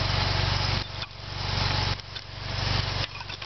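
A Chevrolet Suburban runs on a cold morning with a steady, pulsing engine chug close by. The level rises and dips slightly as the throttle changes.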